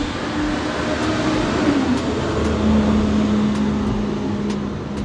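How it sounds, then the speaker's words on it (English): A school bus engine drones steadily throughout with a heavy low rumble and a shifting tone, running nearby. "School bus sound like a tractor trailer"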